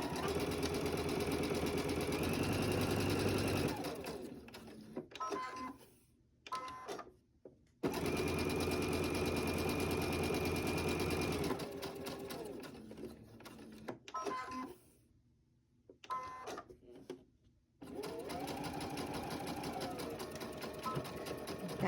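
A sewing machine stitches fabric coasters along a quarter-inch seam, running in loud sustained bursts of rapid needle rhythm that stop and start several times, with short pauses and a brief backstitch between runs.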